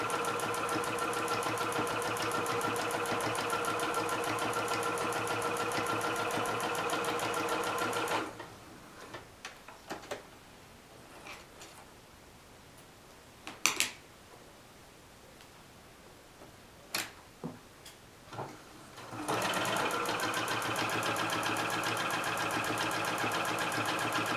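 A sewing machine stitches rag quilt squares cut with an AccuQuilt GO!, running in a loud, steady, rapid whir, pausing for quiet fabric handling and clicks, then starting again.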